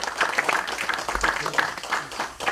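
Audience applause at a Korean public lecture event, a brief burst of moderately loud clapping with some voices mixed in underneath.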